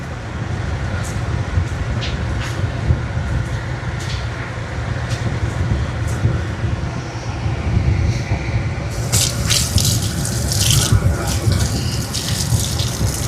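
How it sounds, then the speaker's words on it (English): Plastic blades from a 52-inch Hampton Bay Nassau ceiling fan are washed with soap and water in a sink, running water pouring steadily throughout with clattering splashes growing busier toward the end. "The fan blades are plastic, and I can wet wash them with soap and water."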